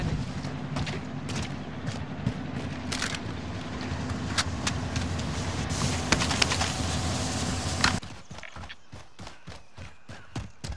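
A video game vehicle drives along with a steady, loud engine drone, plus rattling and thumping from the road, for about eight seconds. The engine then cuts out and a series of sharp, evenly spaced clicks follows.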